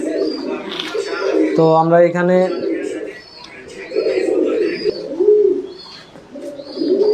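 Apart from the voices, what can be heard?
pigeons cooing at a pigeon farm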